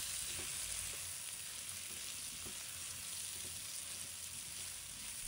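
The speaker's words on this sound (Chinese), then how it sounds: "再把冬瓜放回锅中，继续翻炒" Winter melon stir-fried with dried shrimp and shiitake mushrooms crackles in a hot wok, a continuous close sizzle with faint scraping stirs throughout.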